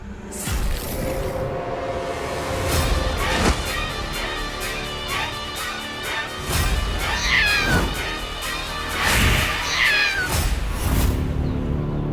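A cat meows a few times over a busy indoor scene, with whooshes, thumps and a crash in the mix, the meows rising clearly above the background.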